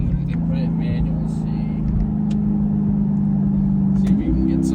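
A C8 Corvette fitted with an AWE Track Edition exhaust idles loudly and close, its deep steady drone rising slightly in pitch as the engine revs, with a brief sharp change near the end.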